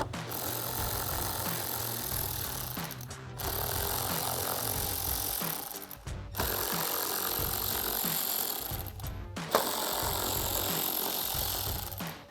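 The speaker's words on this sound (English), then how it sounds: "we're gonna be removing these four 10mm bolts with a 10mm socket." A powered socket tool runs to remove four 10mm bolts from the wheel well of a 2022-2024 Toyota Tundra. Four long, close, buzzing runs of whirring follow one another, each separated by a brief gap.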